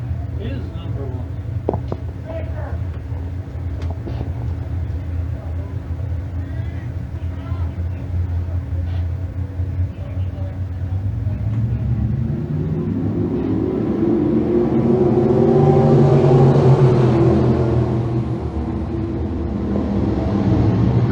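Crate sprint cars race at Can Am Speedway as engines rumble and swell, building to a loud, close roar over the second half while an announcer talks throughout.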